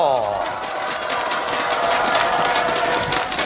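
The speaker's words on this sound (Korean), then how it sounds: "큰 박수로 맞이해 주십시오" Loud, steady crowd applause and cheering from a large outdoor campaign rally for presidential candidate Lee Jae-myung in Daegu, continuous throughout with a dense wash of clapping.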